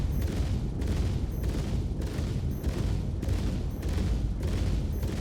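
F8C ship in a video game firing eight deadbolt cannons, a loud, continuous barrage of heavy booming shots with a regular pulsing rhythm about every half second, no talking.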